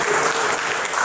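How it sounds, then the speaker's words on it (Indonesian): A room full of people at a business leadership talk claps in a dense, steady burst of applause, loud and close, lasting the whole moment with no voices over it. "Tepuk tangan dong."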